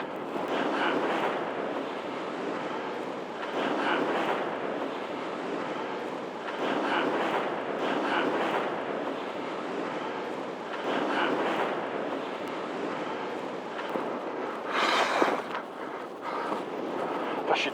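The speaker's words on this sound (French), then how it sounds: "Là, il y a une grosse risée" Strong wind roars continuously at sea, with rushing water and surging gusts that swell and fade over a steady, noisy background.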